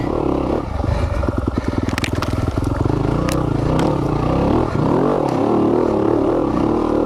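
A 2020 Yamaha YZ250FX dirt bike rides a wooded trail over roots and branches, its engine loud and close, revving hard with rattling clatter and scraping throughout.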